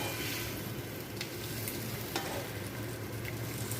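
Bottle gourd and papaya pieces fry in a pan with a steady, close sizzle and crackle, broken by a few sharp pops of stirring, with no talking.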